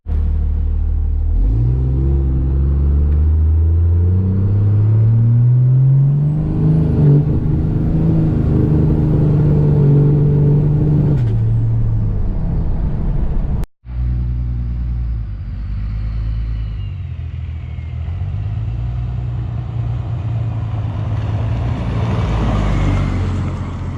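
A diesel drag truck drives on the road, its loud, close engine rumbling steadily as it accelerates through rising gear pulls, with a brief cut partway through, and no one talks.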